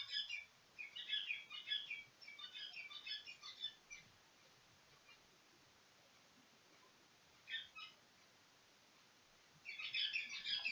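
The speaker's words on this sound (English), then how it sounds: "I'm excited about that bird" Bursts of high, quick bird chirps come in clusters, pausing into near silence in between, then returning bright and close toward the end.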